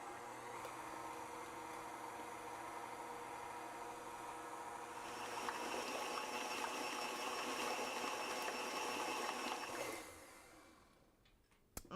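A stand mixer with a paddle beats a ricotta cheesecake batter at medium speed, giving a steady close motor whir with a broadband rattle that swells midway, then winds down and stops near the end.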